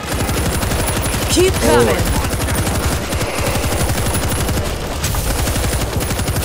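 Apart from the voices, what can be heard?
machine gun fire in the video game World War Z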